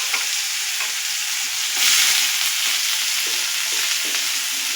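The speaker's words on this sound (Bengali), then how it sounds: "এবার আমি দিয়ে দেবো কাঁচা পেঁয়াজ" Chopped raw onion hits hot oil in a pan, where green chillies are already frying for egg fried rice. The steady sizzle swells briefly partway through and then settles, with no talking over it.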